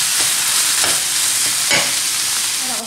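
Food browning in a pan over medium heat with salt and parsley, a steady close sizzle broken by a few scraping stirs.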